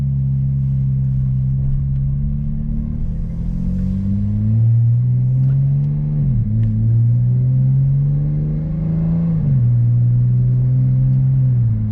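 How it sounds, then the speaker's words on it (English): A 2023 Dodge Challenger SXT in sport mode drives along, its engine a steady close-up drone that rises in pitch under acceleration and drops sharply at two gear shifts, with no talk. "I'm going to be taking you guys for a spin in my 2023 Dodge Challenger SXT."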